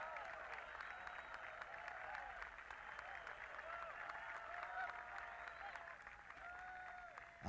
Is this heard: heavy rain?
no